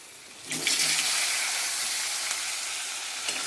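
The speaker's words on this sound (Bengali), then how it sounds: "আলুগুলো একটু ভাজা হয়ে যাক।" Potatoes dropped into hot oil tempered with whole spices and white cumin, a sudden loud hiss that swells and settles into a steady broad sizzle, close up with no voices.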